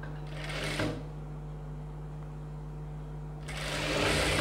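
Two short bursts of a sewing machine stitching a folded half-inch fabric edge on a boat-neck garment, with a quiet pause between runs, close and moderately loud.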